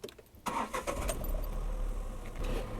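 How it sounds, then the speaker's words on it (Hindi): A car's engine cranks and catches after the ignition is switched on, then settles into a steady low running hum, close and fairly loud with no talk over it. "इग्निशन मोड पे रखने के कुछ सेकंड बाद हम गाड़ी को धीरे से स्टार्ट करेंगे।"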